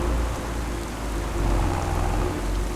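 Heavy rain pours steadily in a farming video game set in a forest region, a dense, even hiss with a low rumbling undertone throughout and no voices.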